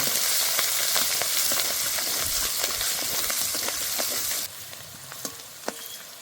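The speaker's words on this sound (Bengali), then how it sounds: "এবার ভালো করে ভেজে নেব।" Garlic, slit green chillies and turmeric frying in hot oil, a loud, close, steady sizzle with light stirring taps, dropping to a quieter sizzle toward the end.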